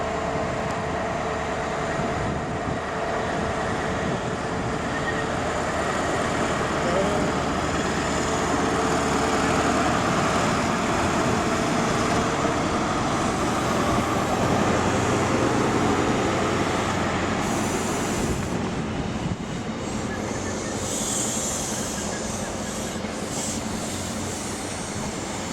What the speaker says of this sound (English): here comes 43306 to London King's Cross on an LNER HST